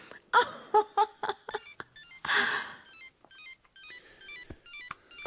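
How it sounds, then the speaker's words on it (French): A telephone rings in a series of electronic ringtone bursts, a steady repeating pattern of short tones with a louder stretch early on, heard close and clear with no talking. "Quoi, tu le laisses sonner?"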